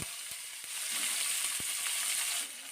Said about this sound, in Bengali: এখন এই ডাটাগুলোকে একটু সময় ভেজে নিচ্ছি